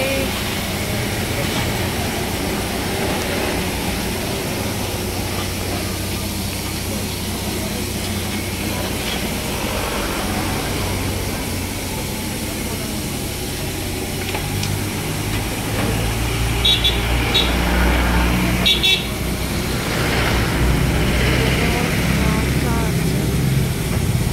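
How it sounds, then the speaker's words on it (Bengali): The Darjeeling toy train locomotive runs at a standstill while being readied, a steady low engine rumble close by with a brief hiss and a clatter later on; voices talk faintly in the background. "আমাদের ইঞ্জিন রেডি হচ্ছে।"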